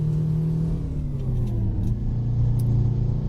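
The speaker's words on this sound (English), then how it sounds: "Listen to that engine." A Peterbilt 359 truck engine in American Truck Simulator, pulling a trailer load, rumbles deeply and continuously. Its pitch drifts slightly as it revs, and the sound stays steady and loud throughout.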